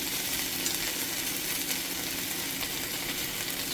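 Sliced bone-in beef chuck short ribs, LA galbi style, sizzle steadily in a hot pan with a dense, continuous crackle and hiss, close and fairly loud, without a break and with no voices.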